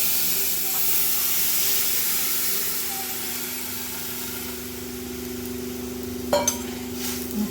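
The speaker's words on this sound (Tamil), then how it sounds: "வறுத்த உடனே இப்போ என்ன செய்யணும், ஏற்கனவே நம்ம காய்ச்சி வச்சுருக்கோம்ல அந்த பாலை ஊற்றணும்" Milk poured onto roasted flattened rice in a pan for payasam and stirred, giving a steady soft hiss and simmer with a few brief clinks of a spoon near the end.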